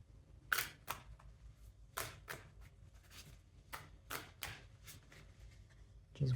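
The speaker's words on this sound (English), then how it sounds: "So I'm just going to reshuffle the deck." A deck of tarot cards is reshuffled, heard as quiet, irregular bursts of crisp snapping and slapping card noise with soft pauses between them.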